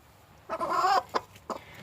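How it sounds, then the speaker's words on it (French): Broody hen on her nest gives a few clucks, one longer puffed-up cluck followed by two short sharp ones, close and clear in a quiet setting. "elle se gonfle et elle devient imposante et elle glousse"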